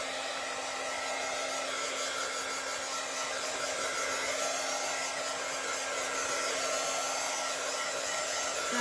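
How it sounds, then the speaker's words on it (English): A hair dryer blows on wet paint on a craft project, a steady close whirring hum with a constant tonal drone running unbroken throughout. "Let's dry this."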